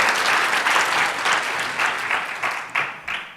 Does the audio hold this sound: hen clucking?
no